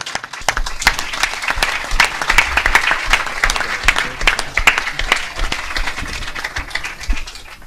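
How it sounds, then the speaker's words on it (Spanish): A dense, steady round of audience applause fills a book presentation hall, with many hands clapping loudly and continuously throughout. "Y para él le pido un fuerte aplauso especial."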